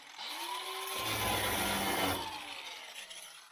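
A power tool cuts a slice into a metal key blank for a sash window lock, a steady grinding rasp that swells through the middle and tapers off, loud and close with no talking.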